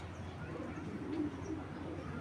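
Hammer breed pigeon giving a low, soft, rumbling coo at close range, brief and quiet against faint background noise.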